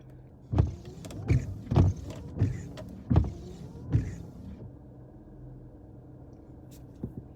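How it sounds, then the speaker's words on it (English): Inside a car, a driver fumbling with unfamiliar controls triggers a run of about six short, sharp mechanical sweeps and thumps in quick succession, close and distinct, followed by a quieter lull and one last faint thump. "I cannot figure out the windshield wipers"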